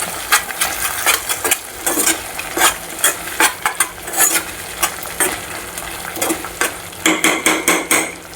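Paneer being stirred with cream in a frying pan, a spatula scraping and clattering against the metal in a steady run of quick, close strokes with a soft sizzle underneath.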